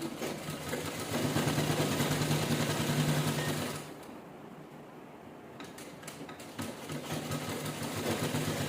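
A sewing machine stitches a laptop cover in a steady loud whir, then pauses briefly before running again in a second continuous burst.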